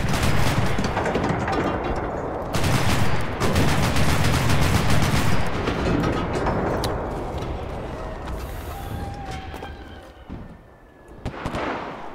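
Dense gunfire in the Enlisted video game, with rapid bursts and overlapping shots across a loud battle mix, thinning out toward the end with a few scattered later shots.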